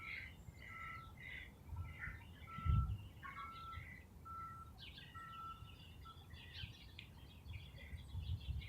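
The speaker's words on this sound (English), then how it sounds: "is that a starling?" Starling calling near a fence: repeated faint squawks and whistled notes in irregular bursts over low background rumble, with a brief thump midway.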